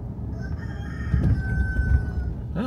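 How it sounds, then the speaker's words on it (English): In a small Texas town, a rooster crows once nearby, a rising then drawn-out call over faint background rumble. "Oh, I heard a rooster."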